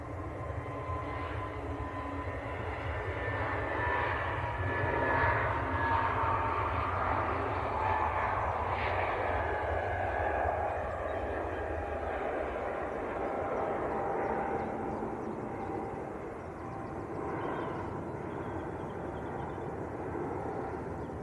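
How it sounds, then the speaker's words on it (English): An EasyJet airliner bound for Marrakesh rolls down the runway at Manchester Airport, a sustained engine roar with a whining tone that swells, peaks midway, then eases slightly as it continues. "EasyJet on the roll."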